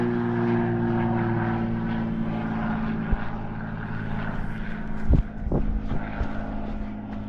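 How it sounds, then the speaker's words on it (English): A propeller plane drones loudly overhead, its engine hum steady and close, with a couple of sharp knocks and rustles near the end. "it's a plane that's like right freaking there"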